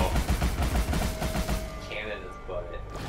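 Rapid bursts of cannon fire in Alice: Madness Returns, loud and repeated in quick succession, with game sounds continuing after.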